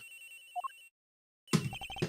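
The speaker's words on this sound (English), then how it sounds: "it sounds like the cell phone's in the flight attendant's room, sir" Cell phone ringing in Ace Attorney Investigations, somewhere in a flight attendant's room: a soft electronic tone with a short rising melodic run, then silence, then a louder burst of ringing notes.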